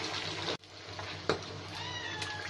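Green masala fish frying in a pan gives a steady broadband sizzle, briefly cut off mid-clip and then resuming with a sharp crackle. A cat meows faintly in the background toward the end.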